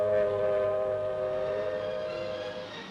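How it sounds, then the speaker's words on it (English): Civil defense sirens wailing during a mock air raid drill in New York, a sustained tonal howl with steady harmonics that slowly sag in pitch and fade slightly toward the end, no talk. "Then sirens sound the alarm."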